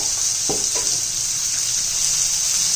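Tomatoes sautéing with softened onion and salt in a pan give a steady, close sizzle and frying hiss, with a couple of brief stirring scrapes near the start and no talking.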